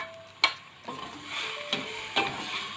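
Beef is stir-fried in a little oil in a pan for a Thai beef om curry, with a few sharp spatula scrapes over a gentle, continuous sizzle heard close up and without speech.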